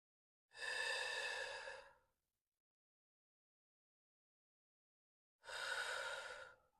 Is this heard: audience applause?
no